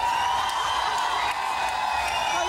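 Studio audience on a late-night talk show applauding and cheering, a sustained even wash of clapping with a few whoops mixed in, loud and close for the whole stretch.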